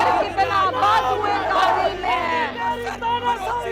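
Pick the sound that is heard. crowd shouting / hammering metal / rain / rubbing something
crowd shouting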